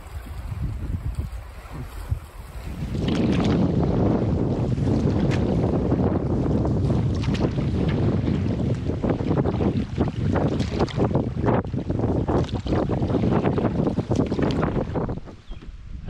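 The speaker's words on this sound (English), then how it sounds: "That was a windy paddle." Strong wind gusts buffet the microphone while paddling a canoe into a headwind on a lake in the Temagami wilderness, a loud, steady roar that rises after a quieter start and stays constant.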